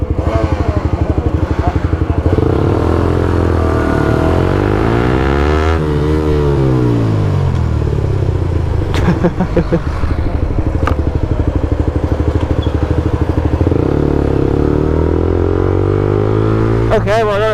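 Motorcycle with a Scorpion aftermarket exhaust idling and revving close by, a loud throbbing engine note rising and falling, with riders talking over it.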